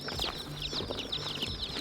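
Baby chicks peep in a brooder, a steady stream of shrill, rapid chirps overlapping close by with no talk.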